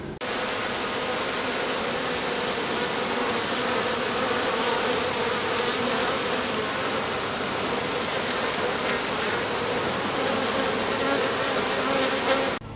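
Honeybees from an aggressive, strong backyard hive fill the air with a dense, steady buzz, loud and close, swarming continuously without any voices.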